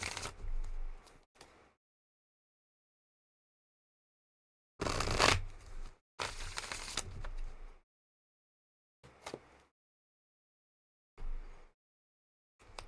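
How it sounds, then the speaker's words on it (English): Several short bursts of riffling, papery tarot card shuffling, separated by silent pauses, fairly close and moderately loud. "Let me keep shuffling."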